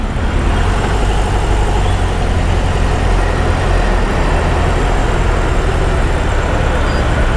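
A 2020 BMW R18 motorcycle engine runs steadily with a deep, low, continuous throb, loud and close, without variation or speech.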